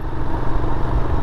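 A motorcycle engine runs steady and loud close by, a continuous rumbling drone with no clear change in pace.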